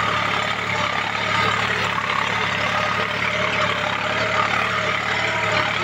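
A John Deere 5105 tractor engine runs steadily at 1500 rpm, a loud, continuous low diesel rumble close by with no breaks.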